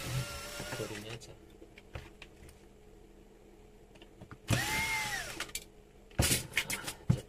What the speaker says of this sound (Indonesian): kita bongkarnya pakai bor aja ya biar cepet